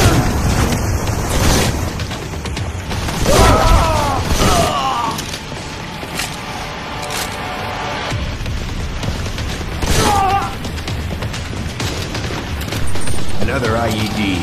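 IED detonation and surrounding combat in Modern Combat 4: Zero Hour, with loud repeated booms and bursts of gunfire layered over constant battlefield noise, interrupted by brief voiced sounds.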